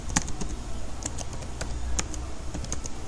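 Fingers tap out a password on a computer keyboard in quick, uneven bursts of close clicks, finishing with a key press, and no one speaks.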